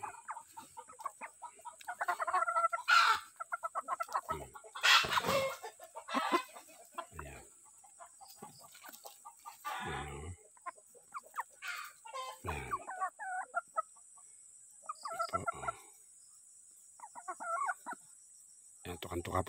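Roosters and chickens on a poultry farm cluck and crow repeatedly in short irregular bursts, fairly close and loud, with a steady high electrical whine running underneath and a few brief sounds of people speaking.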